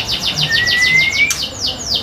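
A white-rumped shama (murai batu) songbird at a Jakarta bird seller's place sings a rapid run of bright, repeated chirps with a rising whistled note in the middle, close and clear against quiet surroundings.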